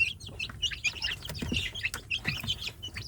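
Native village chicken chicks raised for breeding, a dense chorus of high cheeping and peeping close by, with occasional low clucks and faint knocks underneath.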